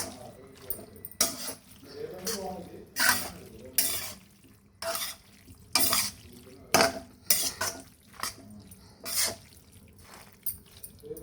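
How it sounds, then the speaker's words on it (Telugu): A pasta snack is stirred and tossed in a pan, with repeated close scrapes and clanks of a utensil against metal at an uneven rhythm over a soft sizzle. "చూడండి ఇలా కలిపేసుకోవాలి."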